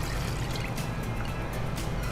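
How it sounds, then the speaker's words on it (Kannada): Milk pours into a cooking pot for coffee, a soft continuous liquid trickle heard up close and alone. "ಈ ಹಾಲನ್ನು ಇದಕ್ಕೆ ಹಾಕುವ."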